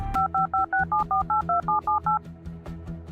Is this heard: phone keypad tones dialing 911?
yes